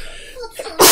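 A single close, loud sneeze bursts out abruptly at the end, preceded by a moment of quiet breathy sounds.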